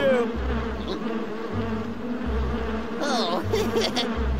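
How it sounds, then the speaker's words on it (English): Cartoon bees buzzing as they circle around a logger, a continuous droning hum mixed with music and occasional effects, loud and close throughout. "Our bee friends are circling around Logger Vick!"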